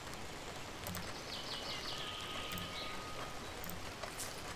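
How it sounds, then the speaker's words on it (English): Light rain falling in the video game Saelig, a soft continuous patter with a few faint bird chirps and small chimes over it, steady and quiet with no voices. "It's a nice day. Bit of rain."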